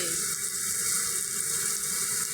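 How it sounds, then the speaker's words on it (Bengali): Heavy rain pouring down and water flooding a yard, a dense steady hiss and rush of falling and running water, close and continuous, with no voices. "আজকে বৃষ্টি হচ্ছে, আমাদের উঠান ভেসে গেছে পানিতে।"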